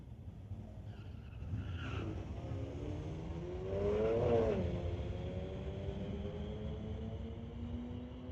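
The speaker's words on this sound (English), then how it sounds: "1992 Mazda Miata, going against Shiraz Khan from Surrey in the 2009 BMW called Toothless" Street-legal drag race between a 1992 Mazda Miata and a 2009 BMW, engines revving and climbing through gears as the cars accelerate away, rising to a peak midway and fading into a steady distant drone.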